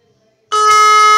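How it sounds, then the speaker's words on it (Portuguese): After a moment of near silence, a loud, steady truck horn blares abruptly and holds, harsh and distorted. "Buzina de caminhão?"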